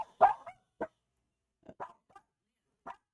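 Chihuahuas give a few quick, high yips and barks in short bursts with quiet pauses between, nearby.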